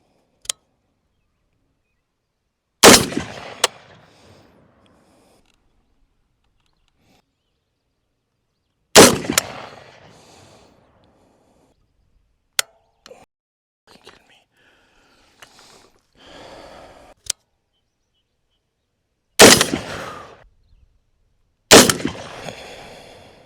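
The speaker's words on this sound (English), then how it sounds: "Few shots off camera, not many, but it's on target now, so that's good." Loud, sharp rifle shots from a Bear Creek Arsenal .243 Winchester upper, about five widely spaced reports with fading tails, interspersed with faint handling clicks and quiet shuffling between shots.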